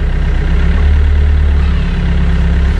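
Doosan DX55W ACE wheeled excavator from 2013 running, a steady loud low diesel drone held close and unbroken throughout.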